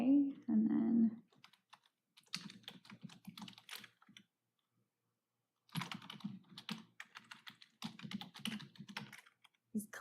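Loud clicks from an unfamiliar computer keyboard come in fast, irregular bursts of typing, broken by pauses, with a voice talking near the start, in a meeting room.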